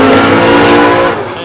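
A 2014 Ford Mustang drift car's engine howls at high revs, a loud, close, sustained harmonic scream that dips slightly as the throttle eases near the end.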